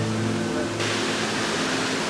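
Rushing water of a cold waterfall at a cliff-diving spot, a steady broadband roar that swells louder and brighter partway through and holds continuous and close, with no voices.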